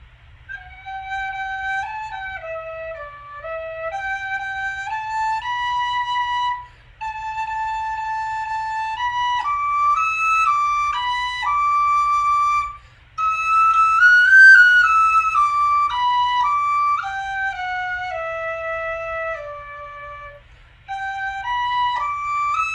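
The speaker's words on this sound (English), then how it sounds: "Here's Be Thou My Vision on a whistle by Carey Whistles that I ordered here recently." A Carey Whistles tin whistle plays the hymn melody Be Thou My Vision solo, with clear, bright sustained notes in steady phrases and brief breath pauses between lines.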